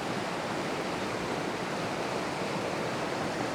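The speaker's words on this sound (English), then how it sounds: "This creek is really fun because it's a lot of classic pocket water." Creek water tumbles through rocky pocket water in a continuous, even rushing hiss, steady and fairly close with no voices.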